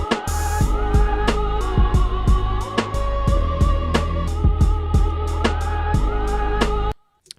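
A loud drum-driven beat with punchy, evenly spaced kicks and snares under sustained melodic layers and a choir sample, played back at raised volume for about seven seconds before stopping abruptly.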